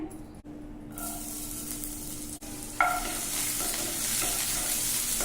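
Onions lightly frying in a pan, a continuous soft sizzle close by that brightens and grows louder partway through as the pan is stirred, with faint scraping over the hiss.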